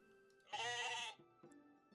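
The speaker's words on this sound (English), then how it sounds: "Not an RTS game without sheep" A sheep in the real-time strategy city-building game Becastled gives a single clear, close bleat lasting about half a second, followed by faint game ambience.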